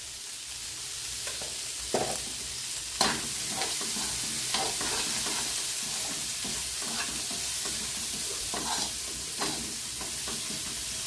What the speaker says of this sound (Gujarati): હવે એને થોડી વાર ખાલી રોસ્ટ કરી લેવાનો